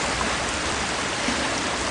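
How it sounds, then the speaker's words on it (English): Steady, full rushing water from a waterfall in the Harry Potter and the Sorcerer's Stone video game, an even close wash of splashing noise with no breaks and no talk. "Now to jump into the waterfall and save game."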